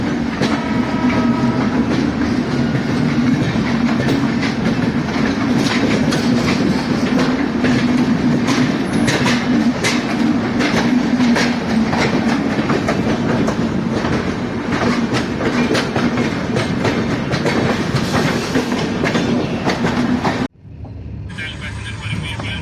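Goa Sampark Kranti express train (no. 12450) running on rails out of New Delhi, with a loud, steady rumble and rhythmic clatter of wheels close by that cuts off abruptly near the end.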